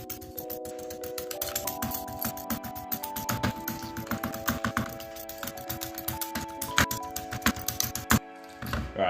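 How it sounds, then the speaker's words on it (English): Keycaps pried off a computer keyboard being cleaned after a year of dirt, a rapid string of close, sharp plastic clicks and snaps in uneven rhythm, alone without talk. "I've got to take out all the keycaps"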